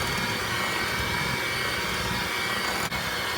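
An electric mixer runs steadily, blending sifted unsweetened cocoa powder into cream cheese frosting, a continuous close whirring drone with no talk over it.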